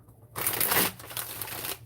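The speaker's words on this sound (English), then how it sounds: "When a card usually jumps out of my shuffling, I usually stop and flip the cards over." A deck of tarot cards being shuffled, a brief close riffling rush of card edges lasting about a second and a half, alone without any talking.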